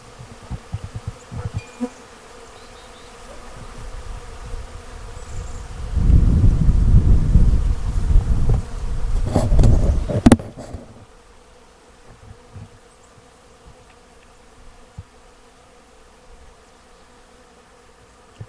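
Honey bees buzz around a 10-frame hive outdoors, a soft steady hum that swells into a loud, dense close-up drone for several seconds before fading back to a quieter background buzz.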